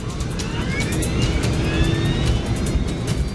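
A Boeing 747 accelerates down the runway for takeoff at takeoff thrust, a loud, steady jet engine roar with broadband rumble and rising whine tones, sustained throughout with no talk.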